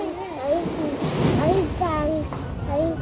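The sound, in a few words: ocean waves at high tide on a beach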